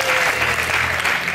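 An audience at a conference session applauds in a brief, dense burst of steady clapping that lasts a little over a second and sounds loud and close.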